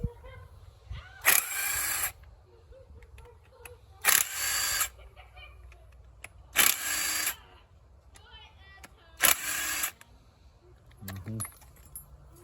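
A hand tool working the head bolts of a Honda Elite 50cc scooter, four loud bursts of rapid ratcheting or impact clatter at spaced intervals, each about a second long, between quieter handling noises.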